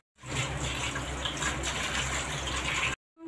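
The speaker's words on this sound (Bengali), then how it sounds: "কচুগুলো কাটা হয়ে গেছে, আমি ঝট করে ধুয়ে নিব, কারণ এগুলো কালো পড়ে যাবে" Water gushes steadily over cut taro pieces being washed, a continuous close splashing and pouring that stops abruptly at the end.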